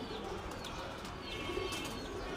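Giribaj flying pigeons coo softly in short murmuring phrases, mixed with a few faint chirps over a steady low background hum.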